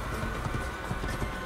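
A horse galloping in the Assassin's Creed video game, a quick rhythmic clip-clop of hooves repeating steadily over continuous ambient game noise, moderately loud, with no talk.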